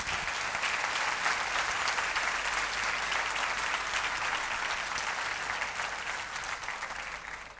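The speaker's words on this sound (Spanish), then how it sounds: "Dele usted un aplauso al Señor" A church congregation fills the room with sustained, loud applause that holds steady for several seconds, then begins to thin slightly at the end, with no distinct voices over it.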